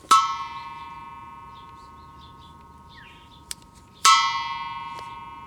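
Metal bell of a CRT picture tube struck twice, each hit giving a bright clanging ring with a long sustained decay, the second strike louder, with a small tap between them in a quiet room.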